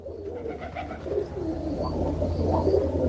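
Racing pigeons at a village loft coo in soft, repeated low phrases, close and fairly steady throughout, with no talking.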